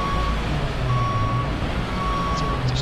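Reversing beeps from a construction truck in Construction Simulator 2012, a steady series of evenly spaced high tones over a constant low engine rumble, fairly loud and close.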